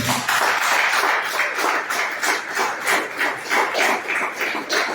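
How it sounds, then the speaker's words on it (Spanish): A church congregation at a Father's Day worship service applauds steadily, a dense wash of many hands clapping in a loose, pulsing rhythm, moderately close with no speech over it. "un aplauso para el Señor"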